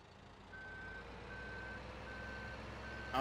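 Reversing beeps from a wheel loader in Farming Simulator 17, four evenly spaced steady tones over a constant engine rumble, moderately loud with no talk.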